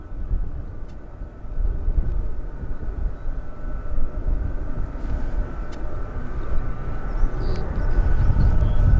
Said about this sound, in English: And also sounds like taxiing. Can't see it at the moment, but taxiing somewhere is possibly a C-17